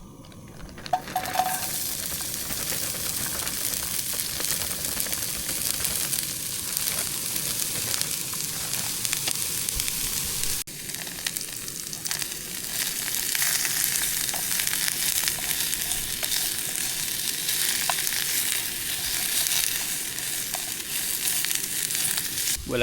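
Vegetables frying in a pot on a camp stove at a wild camp, a continuous dense sizzle with occasional faint stirring clicks, close and steady, no talking.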